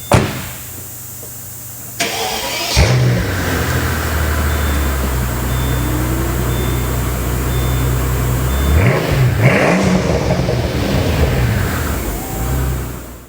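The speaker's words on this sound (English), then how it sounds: "put my foot right on the brake, and you've got an electronic vacuum style ignition" A Mercedes-Benz SL600 with a 5.5-liter twin-turbo V12 starts with a sharp crank after a click, settles into a loud steady idle, then revs up once before easing back down, close by and with no talking.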